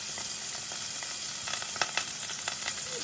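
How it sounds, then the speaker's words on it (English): Chopped onions sautéing in about five tablespoons of oil in a pan, a loud, continuous close sizzle with crackling bursts and light stirring scrapes throughout. "We cut onions in it and saute it for about"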